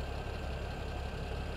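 A small tractor engine pulling a large harvester in the video game Farming Simulator 2017 runs at a steady, low-level drone. The rumble is even and mechanical, with no voices over it.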